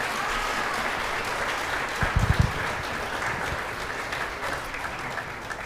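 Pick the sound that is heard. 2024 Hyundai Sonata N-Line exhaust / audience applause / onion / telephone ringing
audience applause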